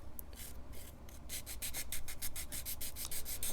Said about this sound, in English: we're just using a 400 sander here